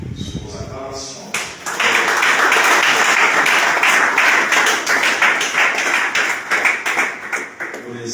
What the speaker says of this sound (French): Sur vos acclamations.